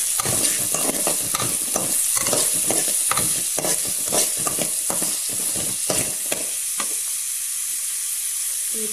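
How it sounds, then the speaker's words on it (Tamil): Onions are sautéed in a pan for a Tamil pomfret fish curry: a strong continuous sizzle with rhythmic spatula scrapes and stirs about every half second, close and loud, with the stirring stopping near the end while frying continues. "இப்போ இதை நல்லா வதக்கி எடுக்கலாம்."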